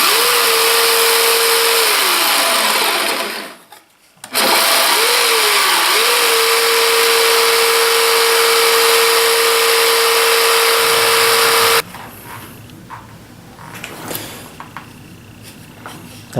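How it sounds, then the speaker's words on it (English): A jigsaw cuts through wood for a Skil saw box, a loud steady motor whine with a brief stop and restart partway, running continuously before cutting off into quieter shop noise. "I'm just going to use my jigsaw for that."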